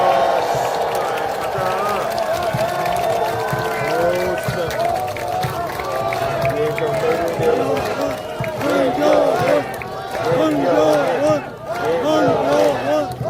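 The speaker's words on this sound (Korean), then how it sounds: "박수 한번 부탁드리겠습니다" A crowd at an outdoor press conference at Olympic Park in Jamsil applauds steadily for a guest. The clapping continues under someone speaking over a loudspeaker.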